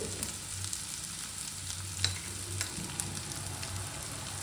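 Capsicum fries in oil with turmeric powder in a pan for curry, giving a soft, steady sizzle with a few faint stirring clicks, quiet and close, with no talking.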